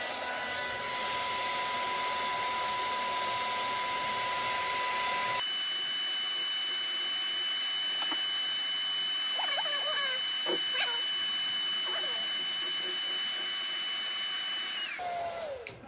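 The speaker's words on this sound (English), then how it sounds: "Then I'm gonna get my little blow dryer." A hair dryer blows steadily with a constant whirring hum, switching to the cool setting partway through, while faint handling sounds and brief murmurs occur nearby.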